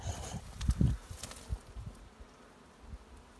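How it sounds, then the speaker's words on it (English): Bees fly in and out of an entrance in a house wall near an old chimney, a soft close buzzing with a few low bumps early on, fading to a faint hum. "there's still bees going in there too"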